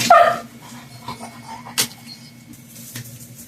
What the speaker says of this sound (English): Hold on, the puppy dog wants me.